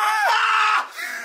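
A man lets out a loud, startled scream of fright, a sustained high-pitched yell close to the microphone that breaks off abruptly and trails into a short, quieter vocal tail.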